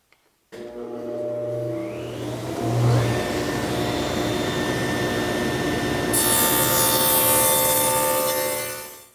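A saw cuts a dado in wood for a vanity cabinet, giving a loud, steady motor whine with grinding cutting noise that runs unbroken for about eight seconds.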